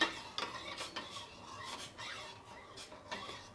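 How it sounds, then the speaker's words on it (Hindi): Custard powder is stirred into a mix of milk and sugar, giving soft, rhythmic rasping strokes of a spoon against the bowl, close and fairly quiet, with no one talking. "अब मैं इसके अंदर ये कस्टर्ड ऐड कर दूँगी और इसको मिक्स कर लूँगी।"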